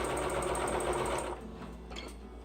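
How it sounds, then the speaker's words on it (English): A sewing machine runs a straight seam joining jelly roll quilt strips, a close, steady rapid stitching whir that slows and quiets toward the end. "I'm just going to sew them together"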